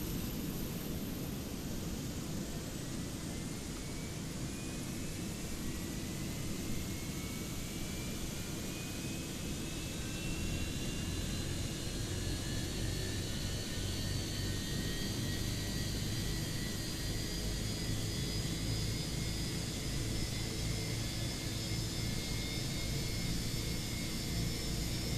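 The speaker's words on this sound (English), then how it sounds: "Engine start. So let's start engine number 2." Simulated IAE engine number 2 of a Fenix A320 spooling up in Microsoft Flight Simulator, a steady airliner roar with rising whine tones that climb and build over about 25 seconds, with the low rumble strengthening midway.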